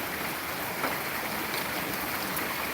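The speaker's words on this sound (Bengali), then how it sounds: "প্রচুর পানি প্রচুর বৃষ্টি হচ্ছে কখনো গুনি গুনি কখনো ভারী বর্ষণ" Heavy rain pours steadily, a dense continuous wash of falling water that stays loud and even throughout, with no voices.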